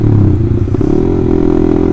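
A Honda CBR150R fitted with an Austin Racing exhaust revs loud and close, its deep engine roar holding steady with a brief dip and clatter before rising again.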